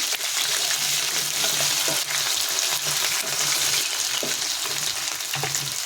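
Potatoes and taro chunks fry together in a pan of hot oil with whole cumin seeds, giving a steady, loud close-up sizzle with a few soft stirring clicks throughout.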